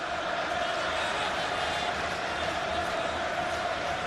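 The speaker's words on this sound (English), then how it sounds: "it's a record Barclays English Premier League crowd at Old Trafford today" A record-sized football crowd at Old Trafford during a Premier League match between Manchester United and Tottenham Hotspur, a steady, distant roar of massed voices filling the stadium without break.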